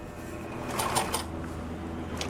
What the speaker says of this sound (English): I'm gonna do a couple forward stitch and a couple backward stitch